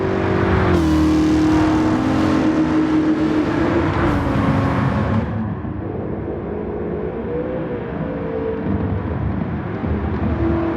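Simulated car engine in the No Hesi racing game on a Wangan Midnight highway course, shifted down to second gear at around 100 km/h; a loud, continuous engine roar with rising revs and a gear change, with no talking.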